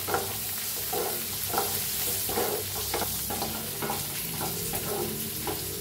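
Tomato, peas, turmeric and coriander powder are stirred in a frying pan, with repeated scraping strokes of a spoon over a soft sizzle, close and steady.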